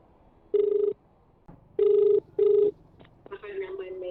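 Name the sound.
telephone ringing while placing a call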